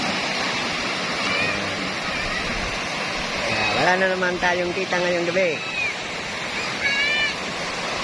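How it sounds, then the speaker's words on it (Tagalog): Large ocean waves roar in a continuous wash of surf along the shore where fishing boats are kept, heard beneath someone speaking in the middle of the stretch. "malalaki ang alon ngayon guys"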